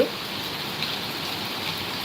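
Heavy monsoon rain pours down steadily, a dense, even hiss of drops close by with no talk over it.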